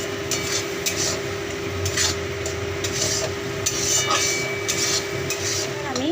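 Spice masala with Kashmiri chilli powder and salt is stirred in oil for rohu fish, rhythmic scraping and rubbing strokes over a low frying hiss and a steady hum, close and without talking.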